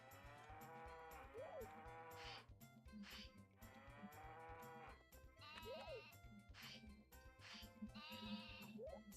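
Cows in the video game Harvest Moon 64 give several short synthesized moos, spaced out over a busy looping backing tune, with no talking.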